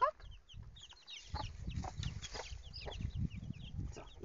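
Hens cluck in short, irregular bursts inside a morning chicken coop, soft and close, with scattered higher calls and rustling between them and no talk.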